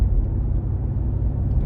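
Electric Mercedes-Benz G 580 with four motors, one per wheel, producing artificial driving sounds: a steady, loud low hum and rumble that holds evenly throughout without breaks.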